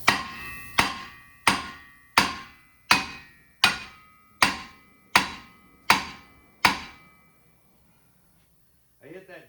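A hammer strikes a seized, rusted rear hub dust cover on a Subaru Outback nine times in a steady rhythm, each loud metallic clang ringing out briefly before the next. A short voice follows after the blows.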